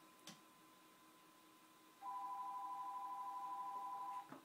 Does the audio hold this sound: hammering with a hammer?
no